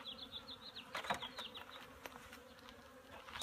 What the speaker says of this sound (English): There's a lot of bees up here.